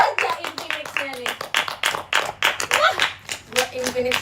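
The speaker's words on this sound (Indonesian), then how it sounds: "Lu tepuk tangan." Hand clapping during a live-streamed chat among JKT48 members, a run of sharp, irregular claps, close and loud, mixed in with lively talk and laughter.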